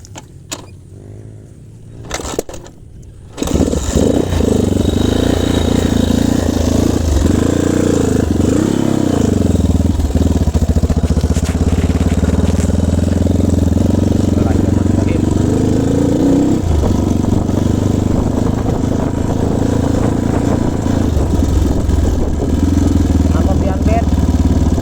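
A Honda GL motorcycle engine starts after a few quiet seconds, then runs loud and steady with a rough, continuous drone and small revving swells, with people talking over it.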